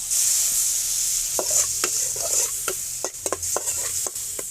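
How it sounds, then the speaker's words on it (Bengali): Potato and green plantain pieces, seasoned with salt and turmeric, fry in a little hot oil with a constant bright sizzle, punctuated by repeated spatula scrapes and knocks against the pan, close and fairly loud. "হালকা করে একটু ভেজে নেব।"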